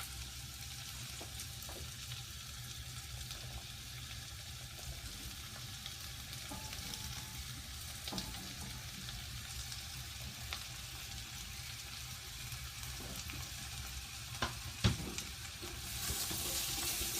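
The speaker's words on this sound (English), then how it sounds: "I am now going to put the potatoes in." Potatoes fry with elephant garlic in a pan for a stew, giving a soft, constant sizzle broken by occasional scraping clicks as they are stirred.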